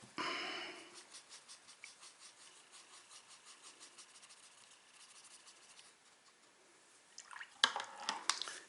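Water is scooped and stirred into paint for coloring carved wooden hinges on a Hobbit door. A soft splash opens it, then quiet rhythmic stirring and faint drips follow, ending in a few louder clinks and scrapes.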